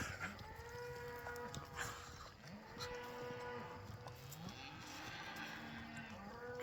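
Cattle mooing out on an open prairie, several drawn-out low calls overlapping at varying distances, with birdsong and a steady outdoor ambience around them and no talk.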